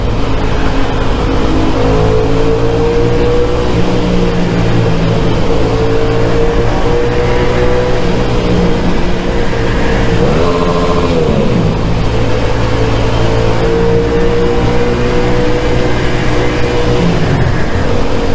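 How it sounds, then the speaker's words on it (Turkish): A motorcycle engine rumbles loudly and continuously through a freed-up exhaust, its exhaust note rising and falling as the throttle is revved a few times. "egzozdan çıkan ses beni tatmin ediyor"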